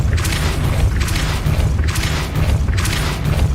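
Depulso spell effect from Hogwarts Legacy, a dense booming whoosh that surges in four loud, evenly spaced pulses, each swelling and fading without pause.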